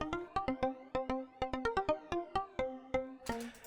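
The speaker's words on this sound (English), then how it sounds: "just an instance of Mini Freak, a preset I found with some phaser on it" A bright Mini Freak synth pluck preset plays a quick, bouncy melodic pattern, each note short and ringing with a swirling phaser shimmer.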